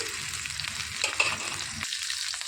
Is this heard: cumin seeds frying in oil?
yes